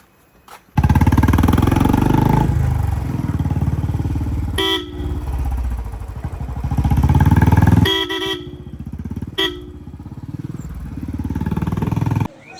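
A motorcycle engine roars up close and steady on a village road heading to a pond, broken by several short horn honks, with no talking over it.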